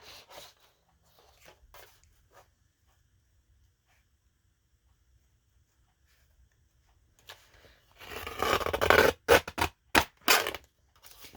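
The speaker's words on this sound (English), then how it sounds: "I'm going to use a Tim Holtz deco paper cutter" Tim Holtz deco paper cutter slicing through paper for a tag, a few sharp scraping strokes near the end after a long quiet stretch with faint handling noises.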